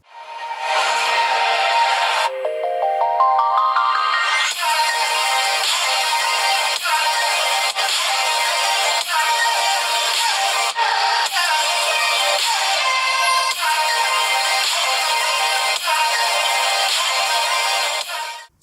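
Loud ringtone melody played through the dual stereo speakers of an iQOO Neo 7 phone: a rising electronic arpeggio, then a bright repeating tune with steady pulses running to the end, with no talking.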